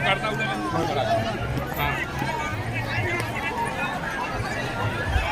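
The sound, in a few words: large crowd outside a rally pandal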